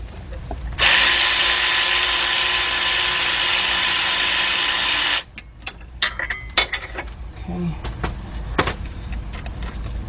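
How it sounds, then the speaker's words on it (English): A power tool spins out an oil pan bolt on a 2005 Cadillac CTS with a 3.6 engine, a loud steady whine lasting about four seconds, then metallic clinks and rattles as tools and parts are handled close by. "we're on our last bolt here"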